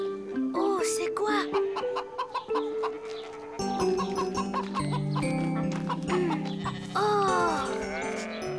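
A voice imitates a hen, clucking in repeated short bursts, mixed with animal bleats and background chatter on a farm.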